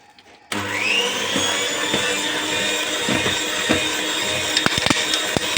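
Electric hand mixer with an apparently loose or faulty internal part, beating orange cake batter with grated orange peel; a sharp start into a steady, loud whirring motor drone with rattling clicks toward the end, no talking.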